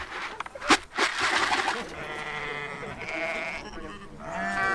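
Sheep on farmland bleating, a sharp loud call near the start followed by several wavering bleats of varying strength over a busy background.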